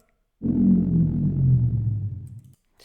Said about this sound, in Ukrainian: Давайте я це називу даунрайзером.